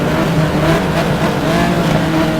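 Loud, continuous roar of racing car engines in the video game GTR2, steady and close with a slight rising-and-falling drone throughout; no voices.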